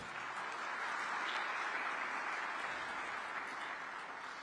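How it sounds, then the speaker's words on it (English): Applause from an audience at a train station unveiling at Orlando International Airport, an even, continuous patter of many hands clapping at moderate volume throughout. "Let's give them a little round of applause."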